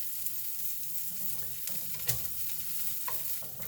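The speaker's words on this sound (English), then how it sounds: "with your onions, you wanna saute them till they're translucent and kind of soft" Onions sauté in a pan for a taco bowl, cooking down until translucent and soft. A lively close sizzle runs throughout, and spoon strokes and light clacks come through the frying.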